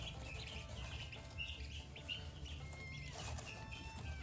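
Ducklings peep and cheep in high, thin bursts over a steady low background hum, the calls soft and continuous.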